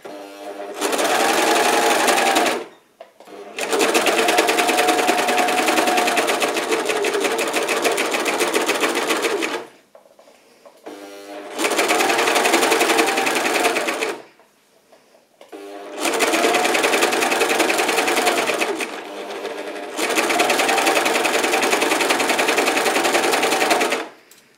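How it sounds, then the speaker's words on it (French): A serger overlocker sewing machine stitches the front of a garment, running loud and close in four long whirring bursts with short pauses between them. "Pour le devant, on assemble à la surjeteuse en faisant bien attention à l'arrondi."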